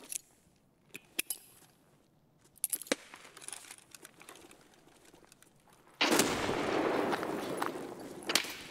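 Gunfire in the video game Escape from Tarkov, a handful of sharp isolated shots at first, then a sustained loud burst of rapid fire near the end, close and punchy with little talk.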